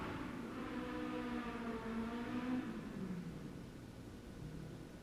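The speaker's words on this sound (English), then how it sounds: "Somebody trying to blow an engine." A nearby engine revving hard, its pitch climbing and then sliding back down in a loud, sustained whine with a rough rumbling underneath, heard on its own without talk.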